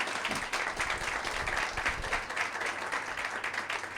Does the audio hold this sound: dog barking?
no